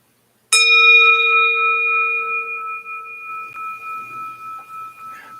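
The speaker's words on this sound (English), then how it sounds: "Mainly testing to see how loud that bell is." A meditation bell is struck once, a clear loud ring that hangs and slowly fades over several seconds with a gently pulsing decay, heard alone.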